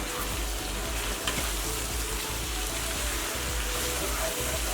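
Masala chicken with whole green chillies stirred in a pan, a steady close sizzle and frying crackle running continuously with soft scraping stir sounds, no talking.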